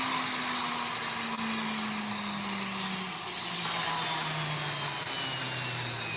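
A rotary tool fitted with a burr grinds fire agate in a steady high-pitched whine with gently falling pitch, close and continuous, with no voices.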